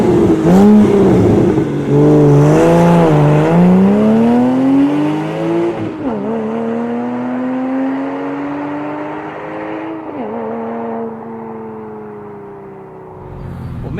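A Porsche Boxster fitted with a Fab Speed exhaust, chip and intake revs hard, its engine note climbing through several rising sweeps with brief drops between shifts, loud and close with no talking.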